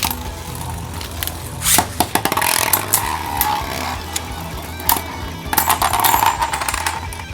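Beyblade Burst tops, including a Solar Sphinx S5 and a Sphinx S4, spin and clash in a slide-shoot stadium. Bursts of sharp metallic rattles and clicks come through several times over a steady whirring hiss.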